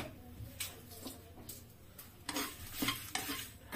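Whole spices, cumin among them, are being lightly dry-roasted in a pan for chicken angara masala, with repeated scraping stirs and faint crackle at a close, moderate level.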